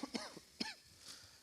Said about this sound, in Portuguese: desculpa, eu estou tossindo um pouquinho